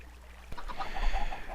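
Chickens cluck in the Minecraft video game, a quick series of short soft clucks following a sharp tap, fairly faint and close.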